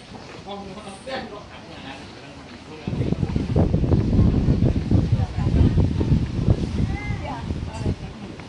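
Strong wind at sea sweeps across a boat, a soft rushing that swells into a loud, continuous roar partway through, with voices talking over it.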